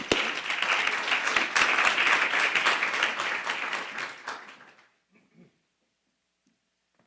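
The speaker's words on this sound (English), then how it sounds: "Ladies and gentlemen, let's have a warm round of applause for Amit." An audience at an Artemis Accords anniversary celebration gives a dense, warm round of applause that holds steady for several seconds, then tapers off into near silence.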